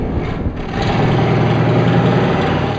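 A truck engine in an N64 video game drones loud and steady, a low rumbling idle that swells after a brief dip and holds constant with no voices.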